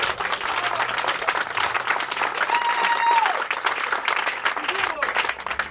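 Warm audience applause at a gathering in Lébamba, Gabon, steady dense clapping throughout with crowd murmur and a brief voice heard underneath.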